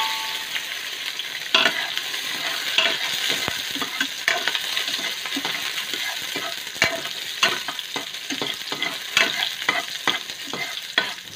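Sliced onions sizzle and crackle in a hot pan as the first step of pork belly sinigang, a steady frying hiss broken by sharp clicks and scrapes of stirring, close and fairly loud with no talking.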